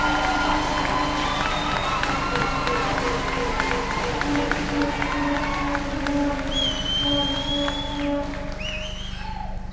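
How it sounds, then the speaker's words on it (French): An audience applauds a speaker at a speech on Africa with sustained, even clapping and crowd noise, plus a few voices and whistle-like tones above it. "Et je vous demande de l'applaudir"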